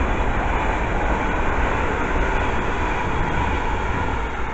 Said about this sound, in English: And that's a service from London Euston to Tring.